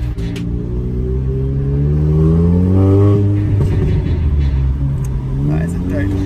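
A pre-tuned car on stock power with a new open-valve exhaust in race mode, revving up and down loudly and close with a deep droning rumble and popping, while someone talks over it.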